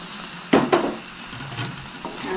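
Cooked jackfruit seeds and chopped banana flower being mixed with grated coconut in a pan, with two sharp scraping clatters of the spoon against the pan up close, then softer stirring scrapes and a low sizzle.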